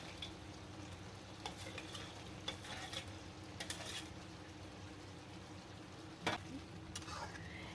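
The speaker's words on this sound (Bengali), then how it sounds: "এবং এটা কষানো হয়ে গেলে তার মধ্যে পনিরগুলো ছেড়ে দিতে হবে।" Paneer cubes fry in a pan of spiced ghee for a curry, giving a soft, steady sizzle with scattered scrapes and clinks from stirring, and a louder scrape near the end.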